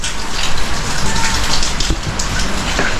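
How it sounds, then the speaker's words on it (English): Steady rain falling in a Philippine town, a dense, loud, close hiss of drops striking surfaces without pause, with no talk heard. "And now it's raining"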